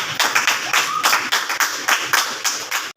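Church audience at an anniversary award ceremony in Jamilabad, Multan, applauding in a dense, fairly loud burst of rhythmic clapping that pulses steadily for about three seconds before cutting off abruptly.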